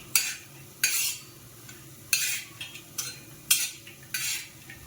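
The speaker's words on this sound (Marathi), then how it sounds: "त्याला सतत हलवत राहायचं. पूर्ण खोबऱ्याला सेम कलर आला पाहिजे." Grated coconut roasts in a pan while a utensil scrapes and stirs it in repeated sharp bursts, roughly one every second, over a faint low background, with no talk.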